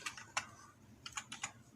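Computer keyboard keys tapped in a quick burst of about eight clicks, close and quiet, typing a search into a job website.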